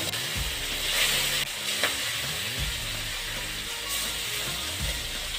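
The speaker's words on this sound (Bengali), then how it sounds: "তেল গরম হয়েছে, এখন আমি মাছগুলো দিয়ে ভেজে নেব।" Koi fish frying in hot mustard oil in a wok, a steady loud sizzle throughout with recurring clanks and scrapes of a utensil, no voices.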